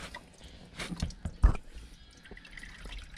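Coolant draining from the radiator of a 2005 Nissan Altima, close, irregular dripping and splashing with a few louder splats, fairly quiet, no talking.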